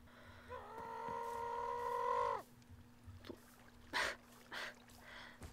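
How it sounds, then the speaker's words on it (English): A Minecraft goat gives a long, nasal bleat that wavers and breaks off after about two seconds, followed by a few short, snorting bursts. "I love the goat sounds."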